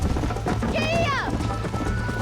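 Horse hooves pound at a gallop in the Red Dead Redemption video game, a steady close clip-clop under a loud game mix with a voice and a brief rising whistle-like cry.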